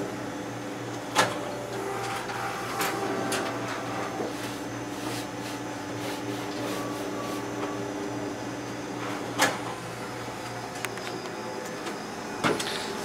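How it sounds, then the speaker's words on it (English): A Ricoh MP C2551 color copier runs steadily through a duplex copy, a continuous mechanical hum with a few sharp clicks and clunks from the document feeder and paper path, no voices. "we'll set the machine to duplex or do a two-sided copy"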